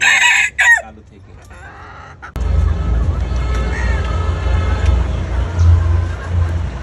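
A laying-age hen calls loudly and steadily close by, following a brief stretch of clucking at the start.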